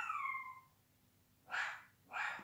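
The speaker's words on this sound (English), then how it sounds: "sorry about that, that's my little doggy." A little dog gives a couple of short, high yips spaced about half a second apart, fairly near but not loud, after a brief whiny squeal at the start.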